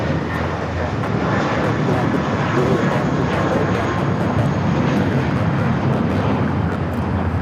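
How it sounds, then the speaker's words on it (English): Viva Aerobus Airbus A320 taking off from LAX, a steady, dense jet roar lasting throughout, with occasional speech mixed in. "This is Viva Aerobus 511 taking off to Guadalajara on the A320"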